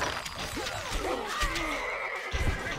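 A horse neighs in the Stronghold Crusader game, a clear whinny rising and falling over a muffled background of game sounds, followed by a few dull hoof-like thuds.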